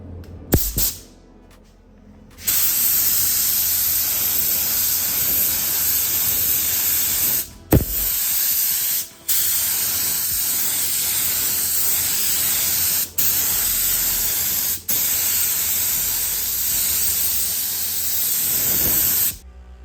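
Burnt metallic orange spray paint coating chassis parts for an LB7 show truck, a loud, close, continuous hiss in long passes broken by several short pauses.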